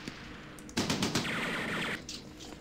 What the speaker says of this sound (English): Now, of course, we got a Jeep here with a machine gun.